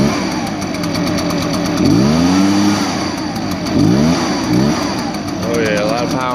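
An Echo petrol leaf blower's small engine revs up and down in several bursts under steady mechanical hum, with someone talking over it.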